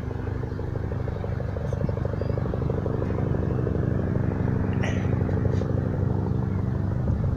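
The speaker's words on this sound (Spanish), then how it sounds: "Eso es un helicóptero." A helicopter passes overhead out of sight, a steady low rotor drone that holds for several seconds, with a faint high chirp or two above it.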